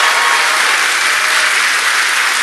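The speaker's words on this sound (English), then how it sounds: "give us a round of applause if you've ever heard Do Go On before" A live show audience applauds steadily and loudly, a dense wash of many hands clapping together throughout with no voices standing out.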